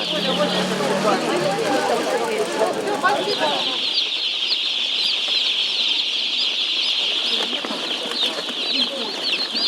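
Dense, constant high-pitched peeping of many young broiler chicks fills the space, with low voices murmuring at the start.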